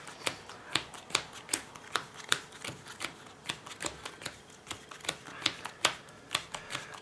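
Crisp card riffles repeat in a steady rhythm, each a short sharp flutter, close by with no talking, like a 42-card deck being shuffled in piles of seven.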